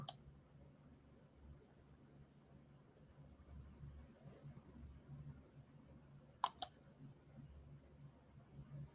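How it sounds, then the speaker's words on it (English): Buttons clicked while a livestream is being set up: a sharp click at the very start and a quick double click later, both alone against a faint, steady background hiss. "I was just clicking on some buttons"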